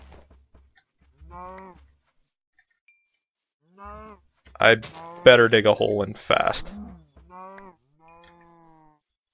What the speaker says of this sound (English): Look at the majestic cow